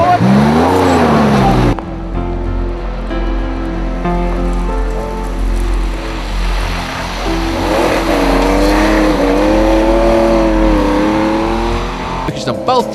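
Porsche 914 driving hard on a rally test, its engine loud and close, climbing and falling in pitch as it accelerates and shifts, with a sudden cut partway through and people talking over it.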